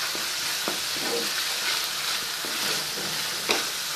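Soy sauce and tomato ketchup sizzle in a hot pan for sweet and sour chicken, a dense, steady frying hiss with occasional spoon scrapes and small spatters, close and continuous with no talk.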